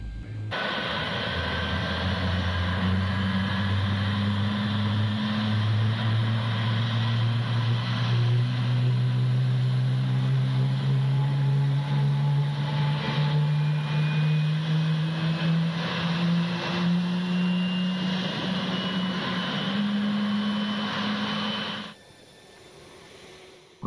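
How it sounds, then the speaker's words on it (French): A Boeing 777 engine spooling up on start, a loud steady roar with rising tonal whine climbing steadily for about twenty seconds before cutting off abruptly, nearby and continuous with no voices. "Premier moteur allumé."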